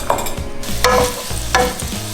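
Ground beef sizzles in a hot pan while a spoon scrapes and stirs it in a few quick strokes, close by.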